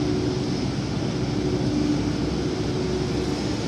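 Big aircraft, a continuous deep droning engine roar with a steady low hum, loud and even throughout with no talk.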